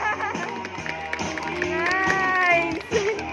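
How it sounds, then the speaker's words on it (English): Spectators clap at a dolphin show at an ocean park, rhythmic hand claps blending with crowd noise and an amplified voice over the top. "Round of applause."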